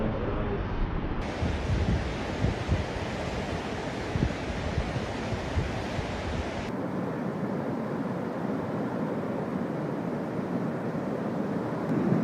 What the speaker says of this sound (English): A family captured footage of an empty cabin nearby being swept into the river.